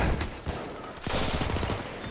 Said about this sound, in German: Das ist eine Granate.